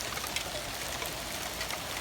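Heavy rain falls steadily outdoors in Fresno, California, making a continuous, even hiss of water pouring and trickling with no voices.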